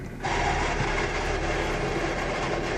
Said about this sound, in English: It's got a pretty good tranny noise going on.